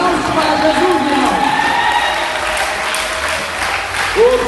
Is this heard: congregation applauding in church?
yes